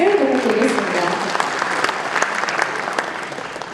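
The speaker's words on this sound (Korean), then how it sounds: "우리 서귀포문화원 큰 울림 난타 동아리에게 여러분 다시 한번 뜨거운 박수 부탁드리겠습니다." An audience at a political constituency report event claps warmly for a nanta percussion club, a dense burst of applause that starts strong and gradually thins out over a few seconds.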